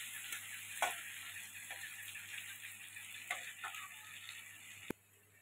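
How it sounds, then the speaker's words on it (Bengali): Hilsa fish frying in oil in a home kitchen, a faint steady sizzle with a few light clicks and taps of a utensil against the pan, ending in one sharper knock. "ইলিশ মাছের তেল ভাজা হচ্ছে।"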